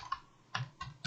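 Computer keyboard keys tapped in a short quiet burst, four or five soft clicks with a brief pause in the middle, close and faint.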